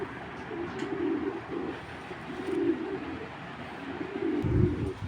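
A domestic pigeon coos in repeated soft, low phrases nearby, three or four bursts in a quiet room, with a brief low thump near the end.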